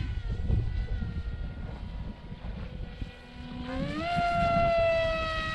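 A Strix StratoSurfer RC plane flies at full speed with the wind in gusty weather, its propeller whine rising sharply in pitch as it passes over wind-buffeted outdoor noise.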